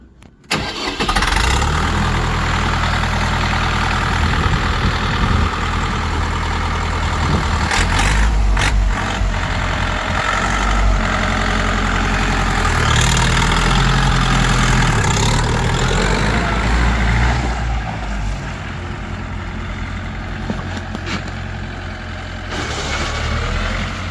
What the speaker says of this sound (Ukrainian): Міні-трактор Україна.